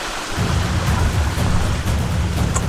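A waterfall roars in a loud, constant, close wash of rushing water that fills the scene without any voices.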